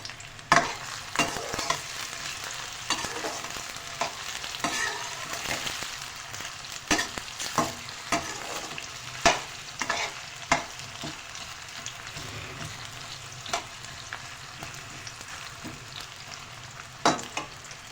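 Whole garam masala spices, including black cardamom and cinnamon, fry in hot oil with onions while being stirred: a steady sizzle runs throughout, broken by frequent sharp spatula clinks and scrapes against the pan.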